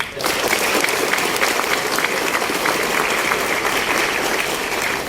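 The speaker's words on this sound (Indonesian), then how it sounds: "Kita berikan aplaus" Sustained applause from an audience for Rieke Diah Pitaloka, dense and steady clapping filling the room for several seconds at a constant level.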